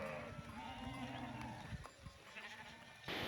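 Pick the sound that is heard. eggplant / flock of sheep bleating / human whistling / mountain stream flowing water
flock of sheep bleating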